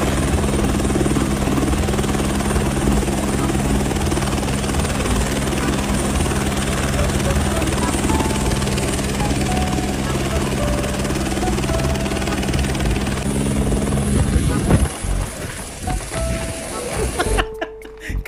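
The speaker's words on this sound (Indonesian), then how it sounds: "helikopter." A helicopter's rotor and engine keep up a loud, steady, continuous drone for most of the stretch, a dense close mechanical roar that breaks up into scattered clattering noises near the end.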